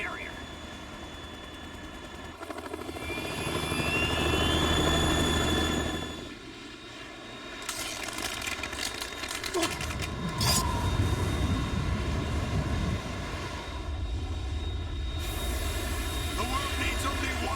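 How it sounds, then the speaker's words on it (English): A Harrier jet hovers in the Metal Gear Solid 2 video game, its engine a loud continuous roaring whine that swells and shifts, with voices talking over it. "It's the Harrier."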